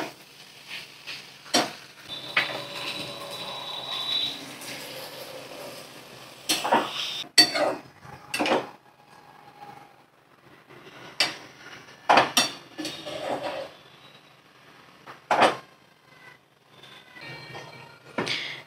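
Boiled, cut potato pieces frying in a pan, heard as intermittent loud clanks and scrapes of a spoon against metal over a faint sizzle, with quiet gaps between the stirring bursts.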